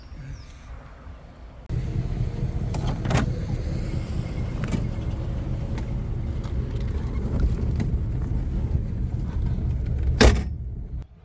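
A 1962 Corvette barn find starting up, its engine catching after a quiet moment and settling into a steady rumble, with a few sharp clicks and knocks over the running motor.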